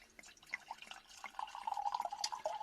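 Cider, a Yarlington Mill bittersweet, poured from a bottle, a soft liquid trickle and splash building steadily and growing louder toward the end, with no talking.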